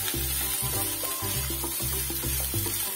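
Beans, cabbage and other vegetables sauté in a pan for restaurant-style veg noodles, giving a steady close sizzle with rhythmic scraping and stirring strokes throughout, no voices.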